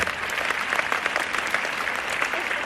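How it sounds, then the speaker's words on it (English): A full round of applause from an audience at an interview event, dense steady clapping throughout at a fairly loud level, with no voices rising above it. "So give actually another round of applause"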